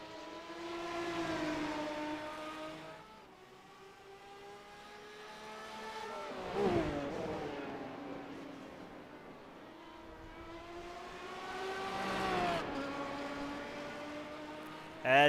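GT1 and GT3 race car engines in a sports car racing game whine and rev as cars pass. Their pitch rises and falls in sweeping waves, fading in and out at moderate distance.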